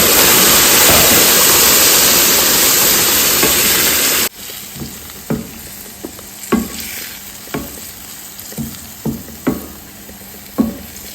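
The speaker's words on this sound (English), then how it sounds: "Then add our blended tomatoes. Don't forget the pepper." Blended tomatoes and pepper hit hot oil in a pot for a gizzard and plantain dish, with a loud, close hissing sizzle that suddenly drops to a quieter simmer broken by sharp knocks of stirring.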